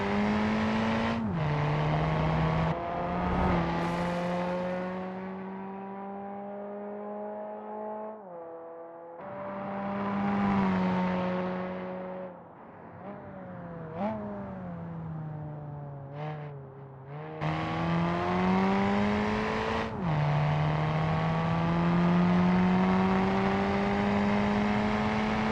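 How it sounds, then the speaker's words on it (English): Race car engines in BeamNG.drive, including the K-Series GT-IV race car, rev and shift repeatedly over a lap, a loud continuous drone rising and dropping in pitch with brief gaps between gear changes, no talk. "I hear improvements to the distant audio for the engines."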